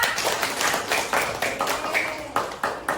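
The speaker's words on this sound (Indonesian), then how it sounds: "Tepuk tangan untuk 2 dan 5." A classroom of students claps together for the winning groups, a close, fairly loud run of sharp hand claps falling into a loose rhythmic pattern for a few seconds with no talk over it.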